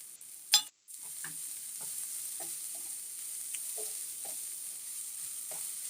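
Onions sauté in a pan for egg kothu chapati, a soft steady sizzle broken by scattered scrapes and stirs of a spoon, heard faint and close with no talking.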